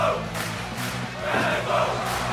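A house wrestling crowd chants rhythmically in repeated pulses, a steady roar of many voices with a commentator talking over it.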